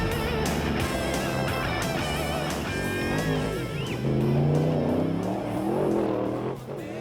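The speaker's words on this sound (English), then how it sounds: "these guys who race their pickup trucks for thousands and thousands of miles across the desert" Pickup trucks racing for long distances across the desert, engines droning and revving steadily and loudly, with a passing swell toward the end, blended with background music.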